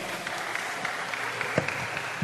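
A church congregation at a praise and worship service applauds steadily, the clapping dense and moderately loud throughout, with a few sharper claps standing out.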